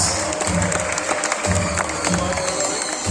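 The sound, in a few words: audience applause at a bird show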